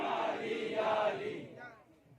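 A crowd at an Urdu religious gathering answers the speaker's call with a loud collective chant of religious slogans, a surging mass of voices that swells and then fades out.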